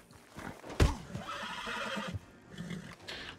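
A horse whinnies loudly near the start, followed by snorting and shuffling hoof sounds, with a steady game-like ambience underneath, in Red Dead Redemption 2.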